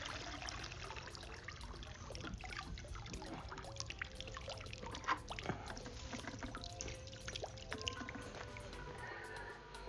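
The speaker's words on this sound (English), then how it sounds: "You want to make sure you drain all the water out." Water draining out of an Aiper Seagull SE robotic pool cleaner as it is lifted from the pool, a quiet continuous trickle and splash with faint drips throughout.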